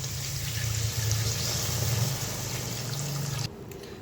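Spice paste water poured into an eggplant and hilsa fish curry in a pan, a steady liquid pouring hiss with low bubbling that stops abruptly near the end, leaving quieter background.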